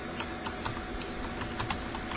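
Steady, rapid typing on a computer keyboard, a continuous patter of close key clicks with no voices.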